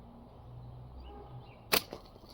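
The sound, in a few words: slingshot shooting a small ball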